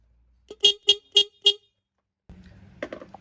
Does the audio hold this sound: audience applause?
no